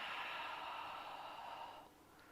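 A slow, steady exhale during a guided yoga stretch, a soft airy breath out lasting about two seconds that fades at the end, close and alone with no talk.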